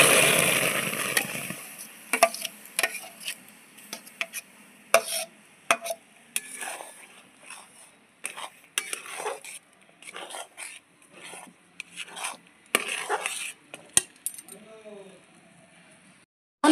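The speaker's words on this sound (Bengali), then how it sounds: "বন্ধুরা, তালটা এরকম ভালো করে নাড়তে হবে, নালে নিচে কড়াই লেগে যাবে।" Thickened palm pulp stirred in a wok, a ladle scraping in irregular strokes with soft sticky scrapes and clicks, close by, while a person talks over it.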